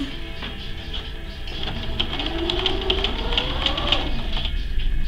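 A sewing machine stitches a facing close to a folded edge, running as a steady continuous mechanical whir with fine rapid ticking that holds at an even, moderately loud level throughout with no talking.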